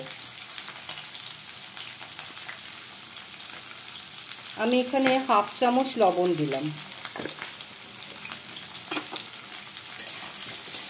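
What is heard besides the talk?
frying kakrol (spiny gourd) on high flame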